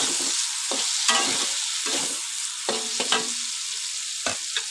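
Medan anchovies fry in a pan with a constant loud sizzle, broken by scraping stirs and crackles, close up with no talking.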